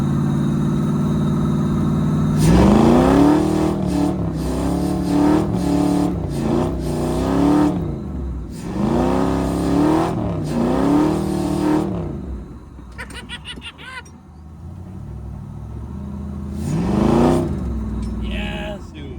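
A Ford Bronco fitted with budget DIY traction bars does donuts, its engine revving hard in repeated rising surges with idle dips between, close and loud, with a brief voice in a lull.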